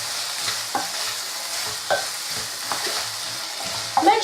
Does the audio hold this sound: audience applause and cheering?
no